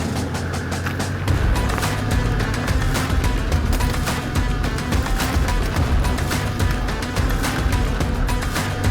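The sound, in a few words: four-wheel drive vehicle driving on forest tracks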